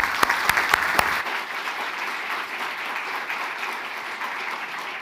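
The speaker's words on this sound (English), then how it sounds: "let's give them a round of applause." A conference audience claps for a panel on the Russian economy and energy sector. Several sharp claps open the applause, which then settles into a steady, moderately distant wash that lasts several seconds without talk.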